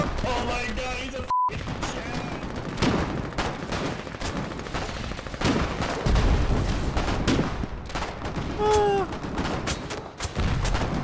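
Sustained gunfire from the urban-combat video game Foxhole, with rapid overlapping shots and bursts that keep up a dense, loud barrage throughout, with a few brief electronic tones and shouted voices mixed in.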